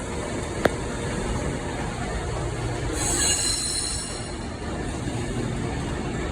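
A freight train hauled by locomotive 88006 rolls past steadily at Carlisle, its wheels letting out a high metallic squeal midway over a constant rumbling roar, with a sharp click near the start.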